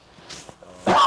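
A single sharp sneeze bursts out near the end, after a few quiet moments of faint room noise, during a town council meeting.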